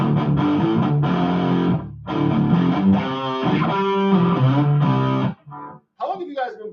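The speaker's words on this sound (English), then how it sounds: "that's like the optimal distortion for this like setting on the guitar" Distorted electric guitar playing sustained, gritty chords through an effects unit, loud and steady for about five seconds before cutting out, followed by a brief quieter phrase at the end.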